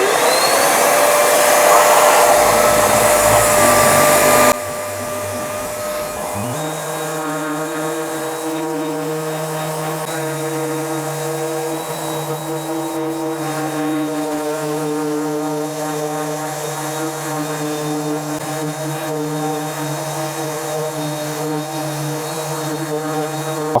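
Worx WX820 5-in-1 sander running with its dust extraction hooked to a vacuum cleaner, a steady loud whining motor drone with a strong tonal hum that settles after a brief start and holds for over twenty seconds.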